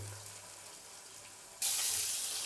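Marinated potato chips dropped into hot oil on a stove, a sudden loud, bright hiss and sizzle that bursts in after a quiet stretch and keeps crackling steadily near the listener.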